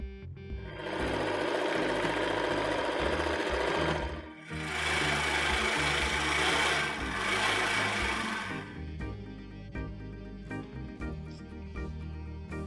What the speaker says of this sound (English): Fold the fabric in half and sew here using straight stitch and then using a serger.